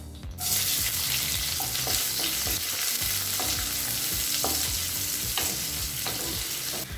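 Long-cut onions (two) frying in oil in a pan with mustard seeds, urad dal and curry leaves, a loud continuous sizzle with scraping stirring strokes throughout, close up.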